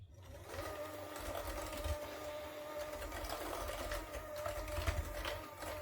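Lemon cookie dough being mixed with lemon juice and zest, heard as a steady mechanical whirring hum that runs unbroken for several seconds with slight surges.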